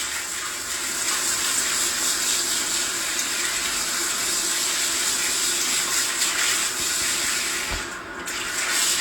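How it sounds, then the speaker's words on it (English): Water runs steadily from a salon tap, rinsing relaxer chemicals out of a client's hair, a continuous close gushing spray with a brief dip near the end. "making sure that all the chemicals is being rinsed thoroughly off of her hair"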